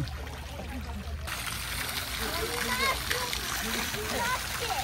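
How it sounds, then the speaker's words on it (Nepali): Water splashes and patters continuously in a fountain with a ball held up by the water's force, near and steady, while people and someone talk over it. "यहाँ चाहिँ लक पानीको यो रहेछ फाउन्टेन"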